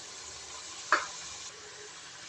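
Potatoes frying in oil give a steady, close hiss of sizzling with one short clink partway through, and no voices.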